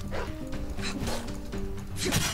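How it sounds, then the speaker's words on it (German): Dogs bark in Skyrim, several short gruff woofs spaced across the moment over a steady droning game soundtrack, fairly close and clear. "Wow, Hunde."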